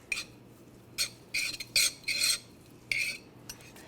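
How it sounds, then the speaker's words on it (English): Spaghetti squash salad with salt and pepper being stirred together in a bowl: several short, scraping utensil strokes in quick bursts with pauses between, close and fairly clear. "we're just going to go ahead and stir that together really quick"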